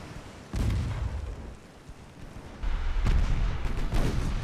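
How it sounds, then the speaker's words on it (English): Torpedoes launching from a warship in a naval battle video game, heavy booming bursts with rumbling low thuds in two main waves, loud and close, no voices. "There we go, my own torps are finally heading out."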